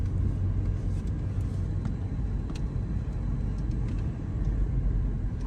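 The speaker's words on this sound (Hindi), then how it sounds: "सीधा पार्किंग में चलो अंसर भाई, उधर गाड़ी डालो।" A car in Dubai pulls into a parking garage with a steady, close engine rumble and low road drone that fills the space, joined by a few faint knocks and clicks.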